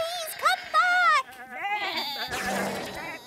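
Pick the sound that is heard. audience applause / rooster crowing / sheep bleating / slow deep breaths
sheep bleating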